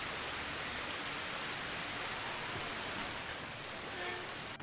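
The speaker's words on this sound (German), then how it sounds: "so arg regnet's." Heavy rain in the medieval village survival game Medieval Dynasty, a dense, steady broadband hiss that holds loud and unbroken throughout with no pauses.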